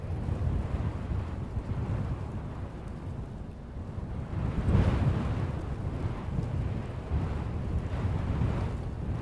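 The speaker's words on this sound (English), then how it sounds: "You can now start to hear as well all the different wind effects." Gusting wind effects in the Assetto Corsa racing game with the Sol 2.0 weather mod: a steady, loud broadband rush with a swell about halfway through, heard alone.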